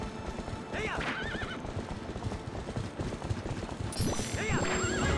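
A horse in The Legend of Zelda: Twilight Princess HD gallops with rapid, continuous hoofbeats and lets out two loud whinnies, one early and one near the end, heard up close alongside game sound and some speech.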